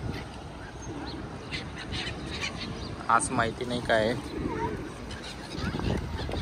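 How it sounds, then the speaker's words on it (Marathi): Waterside birds honk and call near a beach in Salmiya, Kuwait, where they gather to be fed, with bursts of calls in the middle, under someone talking throughout. "हे बघा पाखरं पण इथं खायला येतात, अरबी लोक टाकतात खायला."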